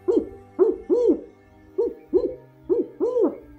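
A person imitates a barred owl call, giving a rhythmic series of loud, close hoots in two phrases, each hoot rising and falling in pitch, with brief pauses between them.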